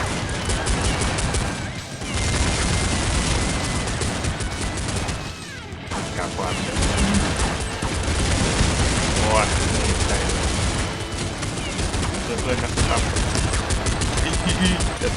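Rapid pistol gunfire in Counter-Strike 1.6, a pistol-only match on the map untitled, cracks loudly in dense, overlapping bursts with game effects throughout, briefly dropping out twice.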